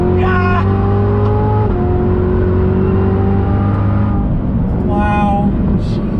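A 2019 Chevrolet Corvette C7 ZR1 with an 8-speed automatic accelerates under hard throttle, its engine a loud, sustained roar that climbs in pitch, drops at a gear change, then rises again close to the microphone.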